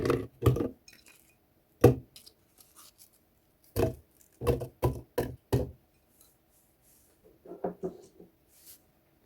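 Whole apples drop one after another into a speed blender jar, giving several sharp knocks and clunks in uneven bursts, close up, with quiet pauses between.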